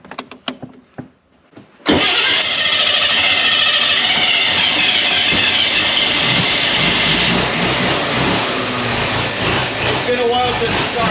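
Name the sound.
Corvette prototype Blue Flame 6 engine starting and running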